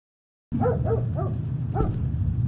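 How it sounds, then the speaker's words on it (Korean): A dog barks about four times in short, sharp bursts at moderate distance, the yelps spaced unevenly over a steady low background hum. "개가 막 짖네요"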